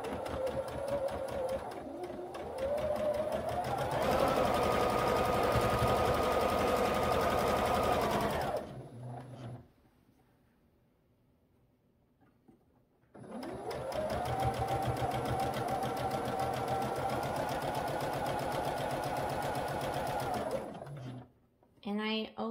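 Sewing machine stitching quilt pieces at a short 1.5 stitch length, running in two long steady bursts with a quiet pause between them, close and loud.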